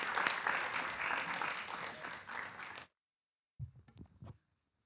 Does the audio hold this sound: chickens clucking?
no